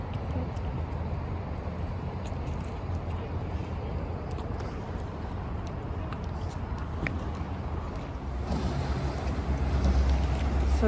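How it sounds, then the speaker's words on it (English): Water taxi boat crossing Toronto harbour, its steady low engine rumble blending with wind buffeting and lapping water, the drone swelling louder toward the end. "So these are water taxis that will bring you to the center island in Toronto."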